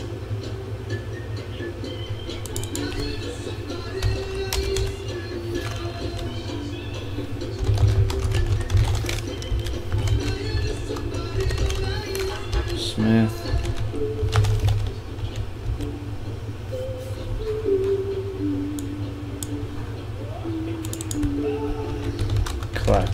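Computer keyboard typing during a sports card box break, a steady run of soft clicks and clacks under continuous background hum, with a voice talking throughout.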